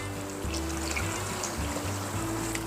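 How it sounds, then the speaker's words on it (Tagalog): Water is poured into kutsinta batter in a mixing bowl, a steady soft trickle and splash running throughout over a low hum, with no talking. "Tapos, paglagay tayo ng tubig."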